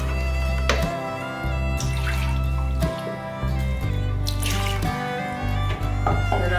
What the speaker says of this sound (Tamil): உங்களுக்கு இப்போ எவ்வளோ தண்ணி வேணுமோ அந்த அளவுக்கு நீங்கள் தண்ணி ஊற்றிக்கோங்க.